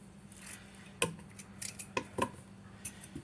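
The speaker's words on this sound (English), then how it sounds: "So we'll get these cut up real quick." A knife chops through small pieces of potato on a cutting board for soup, a few sharp separate clicks and taps close by over a quiet room hum.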